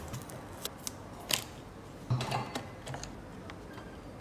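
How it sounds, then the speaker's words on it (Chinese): Parts of a Canon 5D Mark IV camera's back cover coming off during disassembly, heard as sparse close clicks, small plastic snaps and light handling taps against a quiet background, with no talking. "拆一下后壳，我们来观察一下后壳"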